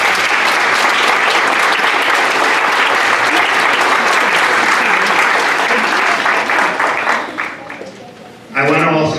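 Loud, sustained applause from a crowd at a Phi Theta Kappa honor society induction ceremony, a thick wall of clapping that fades out near the end before a voice starts speaking.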